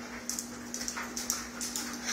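A dog whimpers and pants softly while trying to reach a cookie, making a series of faint, high, whiny breaths in short bursts, close by over a low steady hum.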